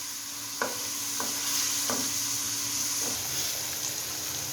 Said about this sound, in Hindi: चिकन के कीमे को फ्राई